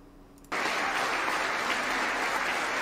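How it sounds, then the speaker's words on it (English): Loud, sustained applause fills a legislative chamber, starting abruptly after a brief quiet moment and continuing steadily as a dense wash of clapping. "Sure, a whole lot of clapping."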